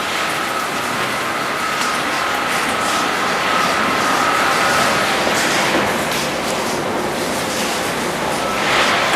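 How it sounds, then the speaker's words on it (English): A pump pushes ginger porter beer during craft brewing, giving a loud, steady rushing whir and hiss of liquid that runs continuously without a break, close by and with no talk over it. "Pump it straight in the sink."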